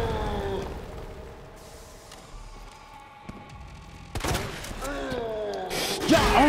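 A grenade going off in Resident Evil 2: after a stretch of quieter game sounds, a sudden sharp blast bursts out, followed by another loud hit near the end amid ringing tones.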